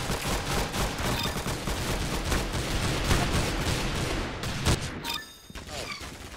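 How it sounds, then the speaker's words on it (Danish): Rapid bursts of gunfire from a Roblox Arsenal match, dense overlapping shots filling most of the clip before tapering off into a few scattered pops near the end, with game effects and occasional voice underneath. "That's some beautiful shooting right there."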